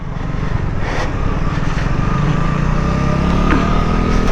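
A KTM RC390 and a Duke 250 motorcycle ride along on a track weekend, engine drone loud and steady with a rising pitch as the bikes accelerate, no talk over it.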